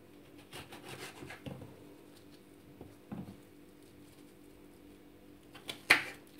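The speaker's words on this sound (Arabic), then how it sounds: "Le temps que je coupe mes oignons, je le mets à côté." Onions cut with a knife while cooking almond chicken tagine give soft, scattered scraping and tapping strokes, faint and close, ending with a few sharper chops.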